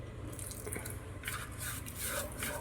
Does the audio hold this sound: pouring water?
yes